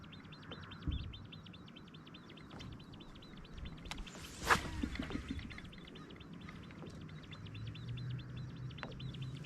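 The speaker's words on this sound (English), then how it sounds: "There's a lot of birds out here, these grebes" Grebes call across a lake during fall bass fishing, a rapid, regular series of chirping notes that keeps going throughout. A splash-like burst cuts in midway, and there is no talking.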